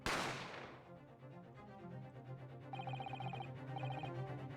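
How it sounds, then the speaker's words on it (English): A single sharp gunshot effect from The Great Ace Attorney video game cracks loudly at the start and decays quickly, followed by quiet ambient game music with a chiming ring-like tone. "You heard the gunshot, you mean?"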